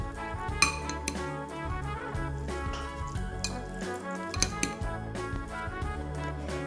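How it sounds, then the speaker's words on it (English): Ground beef and pasta sauce stirred in a pan, with repeated clinks and scrapes of a utensil against metal over a faint cooking background. "Add pasta sauce to the ground beef. Then you need to mix them."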